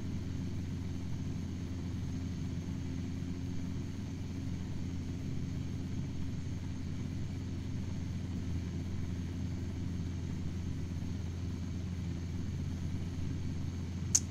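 A Robinson R22 helicopter in the Aerofly FS2 flight simulator drones with a steady, loud low rotor and engine rumble, unbroken and constant throughout, ending with a faint click.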